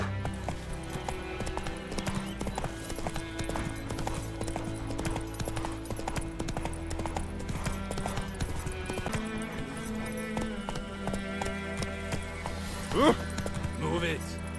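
Roach, the horse in The Witcher 3, gallops with steady rapid hoofbeats under game music, and someone speaks to the horse over the sound.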